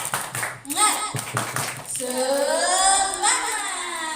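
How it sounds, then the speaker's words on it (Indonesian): A group of teachers performs a rhythmic clapping chant, a few quick claps followed by voices singing out together in a drawn, chant-like call, close and clear. "Tepuk semangat dulu deh supaya lebih semangat."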